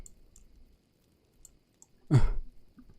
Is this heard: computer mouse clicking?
yes